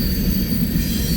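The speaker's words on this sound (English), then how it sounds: "This train's going west towards Lincoln, towards Hobson Yard." A westbound freight train with seven engines on the former CBQ main line at Pacific Junction rolls past close by, a loud, dense rumble of wheels with a high metallic squeal.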